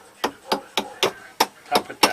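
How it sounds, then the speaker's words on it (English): A hammer taps a pin into a wooden table-top layout board, giving seven sharp, evenly spaced knocks in quick succession, close and fairly loud with no talk over them. "get a hammer and tap it in"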